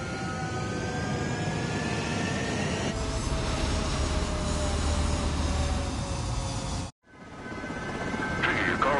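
Fighter jet engines roar steadily on the runway in Ace Combat 7, a loud sustained whine and rumble that cuts out abruptly near the end before building again, with no talk.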